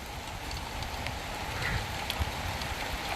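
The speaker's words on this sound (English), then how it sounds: "Rain a fall." Rain falling outdoors, a soft, steady patter and hiss of drops heard at a distance, fairly quiet and continuous throughout.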